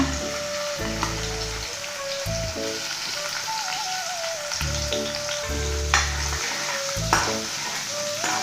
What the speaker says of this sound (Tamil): நல்லா கொஞ்சம் பொரியட்டும் சீரகம் பாருங்கள் நல்லா பொரிஞ்சிச்சு